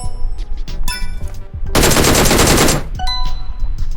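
M16 fire in PUBG Mobile during aim practice: a few scattered single shots, then a dense, loud automatic burst of about a second, then more isolated shots and metallic clinks.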